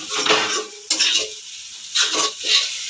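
A spatula stirs soya chowmein in a metal pan, scraping and clinking against the pan in three or four distinct bursts over a soft sizzle, close and fairly loud with quiet gaps between strokes.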